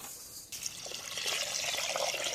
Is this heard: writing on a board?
no